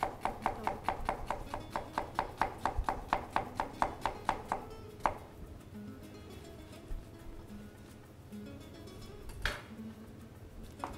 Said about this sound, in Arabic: راح نقوم بتقطيع البصل